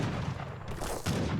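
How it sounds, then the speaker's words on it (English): Howitzer blasts and gunfire from a battle in the strategy video game Age of Empires III, with dense, continuous booming volleys close and loud and a fresh burst of fire near the end. "Yulan's coming in to flank the howitzers, but there's plenty of the Cheyenne riders trying to defend this"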